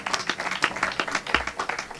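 An audience claps in rhythm at a Hindi kavi sammelan poetry recital, with close, sharp hand claps in a steady patter that lasts about two seconds.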